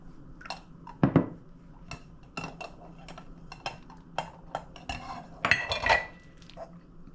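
A spoon scrapes and clinks around a bowl while buffalo chicken dip is mixed with ranch, close irregular knocks and taps with quiet pauses between strokes.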